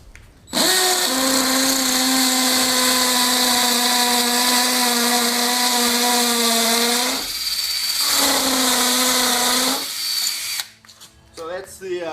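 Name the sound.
cordless drill drilling into a block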